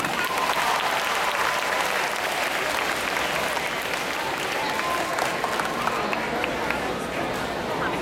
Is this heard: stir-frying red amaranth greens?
no